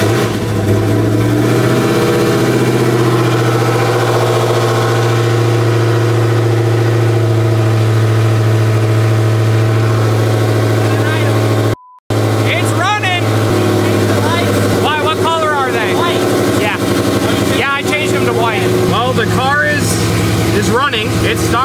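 A car engine running on E85 cranks, starts and settles into a steady idle, with a brief cut partway through; people talk over the loud, close running.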